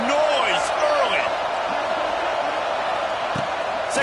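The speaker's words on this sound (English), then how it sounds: "This crowd bringing the energy and noise early." A college football stadium crowd roars and cheers in a dense, steady wash of noise, with some whoops rising above it and voices talking through it.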